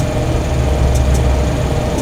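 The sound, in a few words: Fokker F27 engine powering up in flight simulator game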